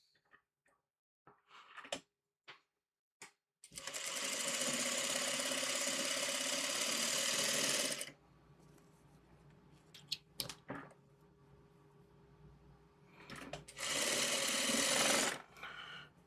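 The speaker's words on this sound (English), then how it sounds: "Sew this down." A sewing machine stitches fabric for a diamond pendant quilt block in two loud steady runs separated by a quiet pause, with small clicks and handling taps around them.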